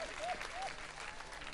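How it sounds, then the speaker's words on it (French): Audience applause at a live comedy show, a broad steady wash of clapping at moderate volume with faint voices mixed in, sustained without a break. "Acclamez."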